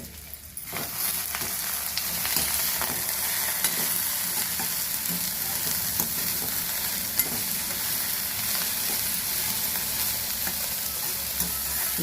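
Okra frying in a pan before prawns are added, a continuous bright sizzle heard up close with occasional faint stirring clicks and no voices.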